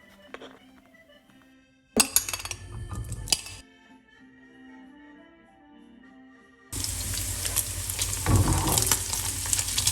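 Lardons and pork rind from the belly fry uncovered in a pan for coq au vin, starting with intermittent clattering and bursts before settling into a loud, steady, close sizzle that runs to the end.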